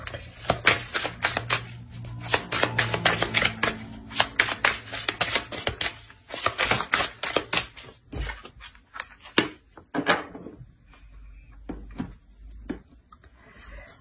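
Tarot cards being shuffled and drawn, a dense run of rapid crisp riffling flutters and slaps close up, followed by a few slower, separate card snaps and handling sounds.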